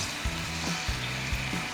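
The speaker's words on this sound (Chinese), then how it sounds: "刚才炸好的鸡肉全部倒入进去，一起炒" Fried chicken pieces tossed in a hot wok, a steady frying sizzle with rhythmic scraping strokes of the spatula repeating about every half second, close and clear.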